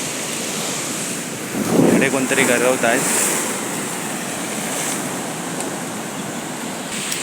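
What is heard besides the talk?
sea waves breaking on shore in rain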